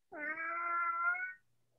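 A house cat gives one long, clear meow lasting over a second, close and alone, with no talk over it.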